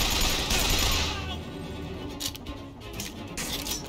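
A weak weapon fires in Bioshock Infinite, with rapid bursts of shots over dense, busy game noise. The shots come at moderate loudness, blending with a hissing wash and scattered louder cracks, and no one speaks.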